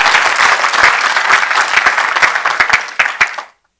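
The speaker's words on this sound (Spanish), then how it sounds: "Da un aplauso al Señor." A church congregation breaks into dense, sustained applause during a Spanish-language sermon, loud and steady, with a few sharper claps standing out before it cuts off abruptly.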